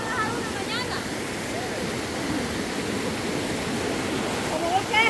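Dirty river water rushing steadily outdoors, a continuous broadband roar like a small stream or rapids, with faint voices talking over it.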